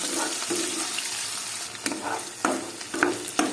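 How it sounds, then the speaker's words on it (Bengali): Onions frying in a pan for a chicken curry, with a steady close sizzle and crackle throughout and several brief louder spitting bursts near the end, no voices. "পেঁয়াজটা দিয়ে একটু ভাজতে হবে, একটু লাল লাল করে ভাজতে হবে"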